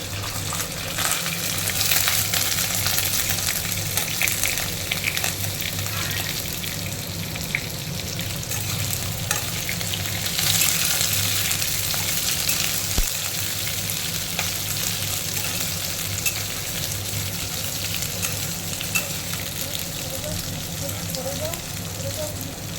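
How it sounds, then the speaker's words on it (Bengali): Potatoes and bay leaf fry in a pan for a Bengali ash gourd shukto, giving a steady, close, continuous sizzle that lasts throughout over a low background hum. "আলুটা একটু ভেজে নিলাম।"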